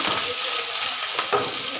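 Minced soya chunks fry in hot oil, giving a steady, broad sizzle that holds evenly throughout with a couple of brief crackling bursts near the end; no voices.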